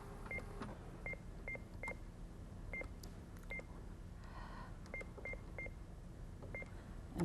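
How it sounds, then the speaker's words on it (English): An HP OfficeJet LX fax machine dials a number, producing a run of short evenly spaced touch-tone beeps over quiet room hiss, with a brief pause midway. "and then just dial the number."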